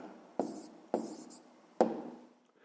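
A pen writes an answer on paper in three short scratching strokes, close and quiet, each fading before the next, with no talking.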